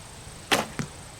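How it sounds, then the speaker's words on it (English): An arrow released from a bow during target practice: two sharp, close transients, the shot and a quick follow-up impact or slap about a quarter second later, heard alone over a quiet background. "Much better shot, good bow arm, everything there."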